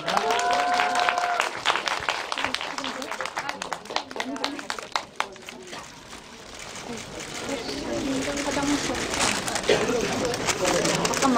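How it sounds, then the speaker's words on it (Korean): Audience applause at a film screening's guest visit with actresses, sustained dense clapping over about eleven seconds, dipping briefly midway, with voices and crowd murmur mixed in. "두 분께, 세 분께 큰 박수 부탁드릴게요."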